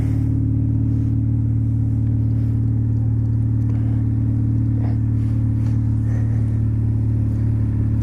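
A DF Goblin car is driven on a road, heard as a constant, loud, low engine drone from inside, steady throughout with no talking.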